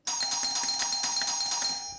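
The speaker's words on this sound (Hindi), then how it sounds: "इतनी बार डोरबेल बजाने पे भी साहिल भाई दरवाजा नहीं खोल रहे" A doorbell rings continuously for about two seconds, with bright, sustained chime tones that repeat in quick succession, loud and close, with no voices.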